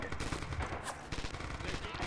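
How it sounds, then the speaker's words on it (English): Automatic machine gun fire from an enemy gunner in the WWII shooter Red Orchestra 2, a dense rattle of rapid bursts layered with other gunfire across a busy battlefield, with no talk. "I'm hearing an enemy machine gunner"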